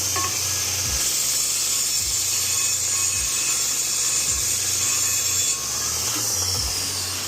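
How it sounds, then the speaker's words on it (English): A belt sander grinds steadily on the cut end of a metal tube, chamfering its inner edge. The abrasive whir is loud and continuous, with a soft low thump repeating about once a second. "Belt sander, clean that up, chamfer the inside of it."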